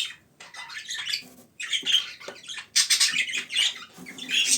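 A small bird chirps and squawks in quick, scratchy bursts close by, with brief pauses between calls.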